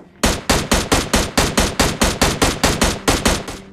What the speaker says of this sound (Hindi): तो मैं इसको M16C4 से नॉक कर देता हूँ और तुरंत इसको फिनिश भी कर देता हूँ।